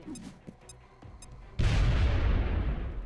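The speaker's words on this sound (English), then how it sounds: "we'll play it safe and use a grenade with Andrea to set fire to the truck" A grenade explodes and sets a truck on fire in the XCOM Enemy Within video game: after a few faint clicks, one loud sudden boom bursts out and trails into a long rumbling, crackling decay.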